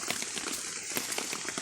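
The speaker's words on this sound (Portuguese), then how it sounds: "Tá frio, chovendo, galera. Tá dando uma chuvinha aqui." Light rain falls on a cold morning outdoors, making a soft, even patter of scattered drops with faint ticks and no voices.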